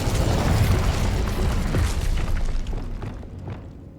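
An Incendio fire spell blast in the game Hogwarts Legacy, a loud roaring whoosh with booming rumble that holds briefly and then tapers away over a few seconds.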